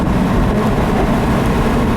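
A 2015 Jaguar F-Type R Coupe's exhaust roars steadily and loudly, a deep continuous rumble with no break and no one talking.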